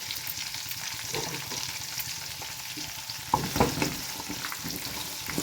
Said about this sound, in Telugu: మిర్చి, ఆనియన్స్ అన్నీ ఒకే విధంగా ఫ్రై అయినాయి కదండి